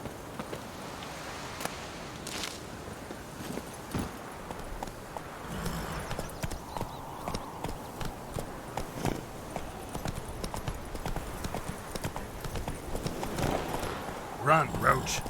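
A horse clip-clops along in The Witcher 3 video game, hooves mixed with game ambience, while a person talks over it intermittently.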